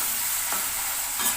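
A green chili sizzles in hot oil for a cashew chicken curry, giving a steady loud frying hiss with a couple of soft stirring scrapes.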